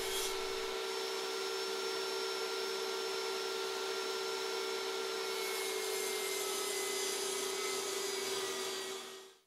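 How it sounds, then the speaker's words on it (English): A power saw cuts cedar blocks into 30 mm thick strips for making square bill crankbait lures, giving a steady, whining drone with a constant hum that runs throughout and then stops. "So I decided to cut these into strips that are 30 millimeters thick."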